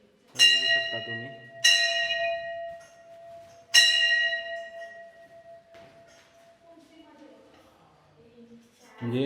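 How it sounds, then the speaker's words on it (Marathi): A metal bell inside the 257-year-old stone Shri Tryambakeshwar Shiva temple in Vita is struck three times close by, each clang ringing on with a long sustained hum that slowly fades. "इथं आपली घंटी आहे"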